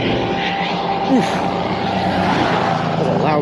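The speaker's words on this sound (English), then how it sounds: "That's a loud truck." A loud truck passes along a road on a long city walk through Atchison, its broad engine rumble steady and close throughout, with a rising swell near the middle.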